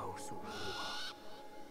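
An owl hoots briefly in the forest of the Far Cry Primal game, a near, clear call over soft ambient background, with a voice present.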